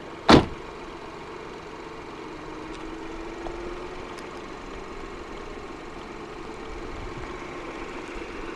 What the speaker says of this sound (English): you pull it once to pop the bonnet open, and pull it a second time to release the catch holding the bonnet to the body of the car